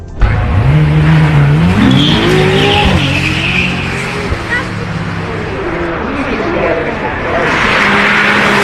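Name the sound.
supercar engine and exhaust from outside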